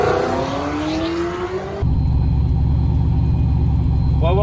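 An LSX-swapped Cadillac Escalade at a drag race rumbles loudly, its V8 engine idling and building revs with a steady, throbbing low drone after a sudden cut from a higher-pitched engine sweep.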